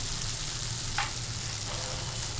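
Ground spice paste and asafoetida sizzle in a hot pan for a spiny gourd (kartoli) curry. The frying crackle is loud and continuous, with a brief utensil tap partway through and no talk.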